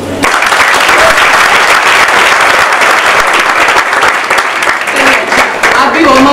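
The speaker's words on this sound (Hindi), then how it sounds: "मैं चाहती हूं कि तालियां हो जाए।" An event audience bursts into loud, enthusiastic applause, continuous dense clapping that stays strong for several seconds, with a few voices audible as it fades toward the end.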